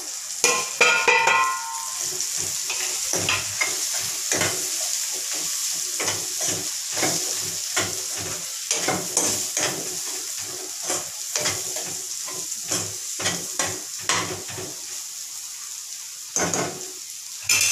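Spices such as chilli, coriander and cumin powder, with salt, frying in oil with onions and tomatoes; a constant sizzle broken by rhythmic scraping stirs and spoon clanks against the pan.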